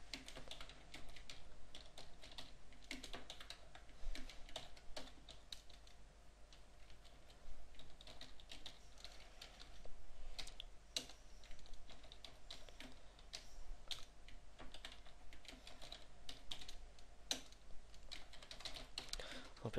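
Computer keyboard being typed on while entering C++ code, with rapid irregular clicking keystrokes running steadily throughout at close range and quiet level.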